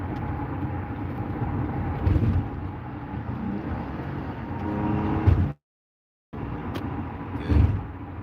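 A car being driven, its steady engine and road rumble running from inside the cabin with a few louder bumps, a brief total dropout midway, then the drone resuming.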